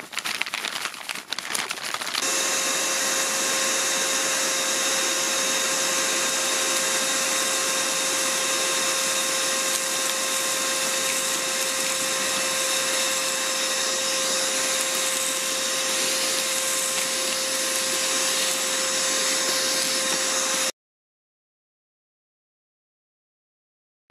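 A Lidl Parkside PNTSA 20-Li A1 cordless 20V wet and dry vacuum cleaner runs close and loud with a steady whine for about twenty seconds, starting after a short rustle and then cutting off.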